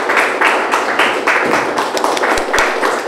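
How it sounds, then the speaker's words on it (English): Audience at a poetry reading applauding a high school winner, a dense, steady clatter of many hands clapping close by, with a couple of heavier thumps near the end. "some applause for our high school winner"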